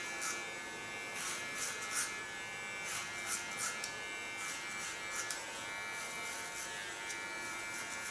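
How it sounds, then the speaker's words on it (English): Keone hair clipper buzzing steadily during a nape shave, a constant close electric hum with brief crisp cutting bursts as the blades move against the hair, no talking. "Take my Keone clipper."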